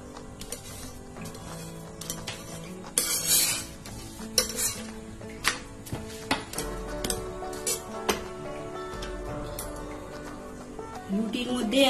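A veg burger paratha toasts on a pan, with soft sizzling beneath frequent scraping, tapping and clattering of a utensil against the pan, sharp handling knocks throughout and a faint tonal swell at the end.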